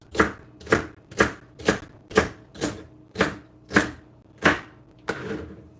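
Knife chopping vegetables such as celery on a cutting board for chili, about eleven crisp, evenly spaced chops close by, with no talking.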